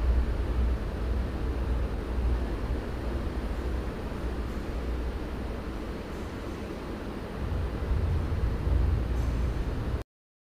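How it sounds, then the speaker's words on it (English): A K subway train rumbles steadily through a station at close range, a broad continuous roar that swells slightly near the end before cutting off. "There's a K train going to Union Turnpike."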